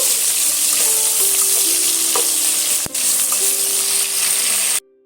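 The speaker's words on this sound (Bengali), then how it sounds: "এই পেঁয়াজটা একটু লাল লাল করে প্রথমে ভেজে নেব" Chopped onions fry in hot oil for chicken kosha, a dense, continuous sizzle close by with occasional scraping of a spatula stirring the pan, cutting off abruptly at the end.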